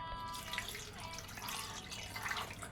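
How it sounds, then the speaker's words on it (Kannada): A glass of water poured into a cooking pot of chopped tomatoes gives a steady splashing, trickling stream that runs close and continuous for about three seconds, with no voices. "ಒಂದು ಗ್ಲಾಸ್ ಅದಕ್ಕೆ ನೀರು ಹಾಕ್ತಾಯಿದ್ದೀನಿ."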